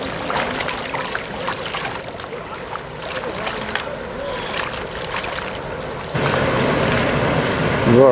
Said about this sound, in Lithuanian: Va, kokį bangų pavarė.